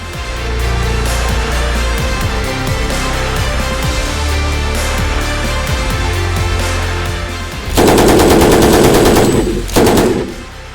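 Automatic gunfire from a gun fitted with a thermal optic, loud rapid bursts outdoors, with a denser sustained burst near the end and no talking.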